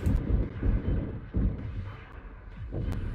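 Heavy booming blasts go off repeatedly in Dead Space 2, deep and rumbling, roughly every second over a continuous low roar.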